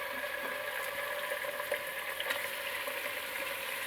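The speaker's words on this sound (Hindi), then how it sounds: "मटन को 6-7 मिनट अच्छी तरह भुनेंगे तेज़ आंच पर" Mutton sears on high heat with bay leaves, cinnamon and garlic-ginger paste, giving a constant close crackling sizzle with occasional sharper pops and spoon scrapes, no talking.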